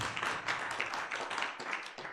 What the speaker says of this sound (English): Let us give him one more time a round of applause.